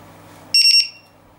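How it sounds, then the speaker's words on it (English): A voltage beeper connected to a lithium-ion battery pack for an RC plane gives one loud, sharp electronic alarm burst of about three rapid pulses, then goes quiet against a low background hum. "I'm connecting this beeper here"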